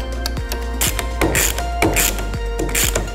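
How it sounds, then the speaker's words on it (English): Ratchet wrench clicking in quick bursts while tightening the clutch cover screws on a Vespa scooter engine, a crisp, close pawl rattle that stops and starts several times. "It is important to put in the screws a long way, very deep into the housing"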